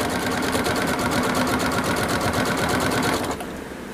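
A sewing machine stitches a round craft cord bowl, a steady rapid mechanical needle chatter running loud and close for several seconds before easing off near the end.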